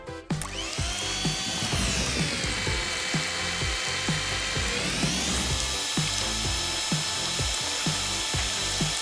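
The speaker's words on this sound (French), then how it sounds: "On passe au batteur maintenant." An electric mixer beats cake batter for a rainbow cake, a loud steady motor whine with a rhythmic clatter of beaters against the bowl, the pitch dropping and rising partway through.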